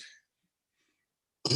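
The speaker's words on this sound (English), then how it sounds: "oh, excuse me, I had a little cough there." A single short cough bursts out close and fairly loud at the very end, after a brief throat noise at the start and a stretch of near silence.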